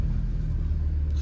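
An Audi SQ5 3.0 BiTDI V6 quattro diesel engine gives a brief, steady low rumble close by, with no talking over it.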